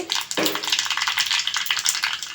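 Mustard seeds and cumin spit and sizzle in two spoons of hot oil for a tempering, a dense crackling hiss with a sharp burst near the start.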